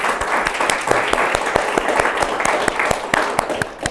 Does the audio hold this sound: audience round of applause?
yes